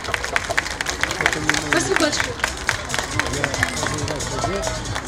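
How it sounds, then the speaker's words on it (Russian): A concert audience in Tatarstan claps steadily in rhythmic applause that runs throughout, while a voice speaks over the clapping. "Аплодисменты!"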